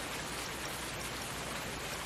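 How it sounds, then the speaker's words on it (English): Rain in the Ravenport video game, a dense, steady hiss of heavy rainfall that stays constant and fairly loud throughout. "while we wait for this rain to go away"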